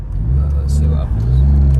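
Mercedes 300D W124 diesel saloon pulling hard downhill on an English road, a loud steady low engine drone rising slightly in pitch as it accelerates, with voices nearby in the cabin.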